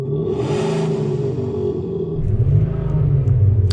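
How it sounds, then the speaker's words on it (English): A Ford Transit Custom MSRT diesel van plays a fake V8 engine note through a rear speaker in place of a real sports exhaust. It gives a steady, close, deep droning rumble that swells louder partway through. "there's a speaker at the back of the car which is playing fake V8 noise over the diesel rattle"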